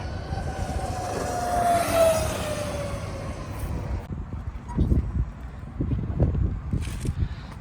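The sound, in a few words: Harley-Davidson LiveWire electric motorcycle ride-by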